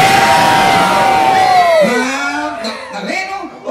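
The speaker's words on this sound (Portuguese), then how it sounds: "Cadê o grito dos homens?" A crowd of men at a circus shouts together in a long, loud bellowing cry that rises and breaks up into scattered yells, with a voice talking over it.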